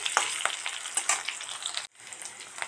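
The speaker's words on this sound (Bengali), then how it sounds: "আলুগুলো সুন্দর করে ভেজে নেব" Potatoes fry in a pan with spices, a close crackling sizzle broken by scraping stirs and clatters before a brief drop-out, then the sizzle resumes.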